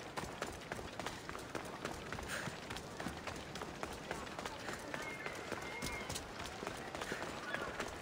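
Horse hooves pound at a steady gallop while riding in Assassin's Creed Odyssey, a continuous rapid clatter running the whole time under game ambience and a voice talking over it.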